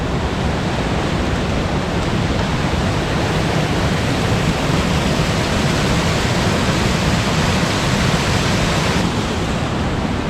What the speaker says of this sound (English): Waterfalls here.